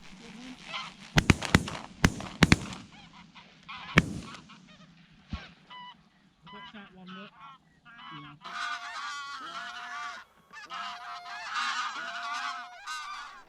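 A skein of geese honks repeatedly during an inland goose hunt, preceded by several sharp loud gunshots; the honking calls build into a dense, continuous chorus toward the end, moderately near.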